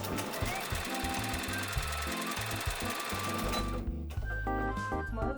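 A Brother NV2700 sewing machine running a sideways stitch pattern, its needle mechanism chattering in a steady, fast mechanical rhythm at close range, with brief pauses and shifts in pace as the stitch changes direction.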